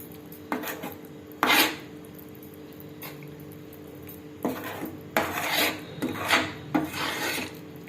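An eggplant and onion thokku is rubbed and sautéed in a pan, with intermittent rasping scrapes of a spatula against the pan between quieter stretches, close by and with no voices.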